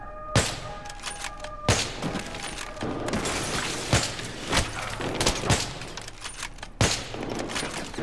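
Gunfire in the video game Battlefield 3: sharp shots and short bursts crack repeatedly over a busy battle din, several loud reports spaced irregularly across the stretch.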